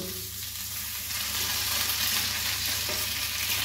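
Chicken pieces sizzle in a frying pan, a dense, steady crackle of hot oil that swells slightly partway through and runs without a break, close and fairly loud.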